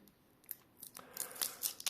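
Cellophane and tape packaging is peeled from coins, making quick crinkling, tearing and snipping bursts close by. The bursts come faster and louder toward the end, and nobody talks.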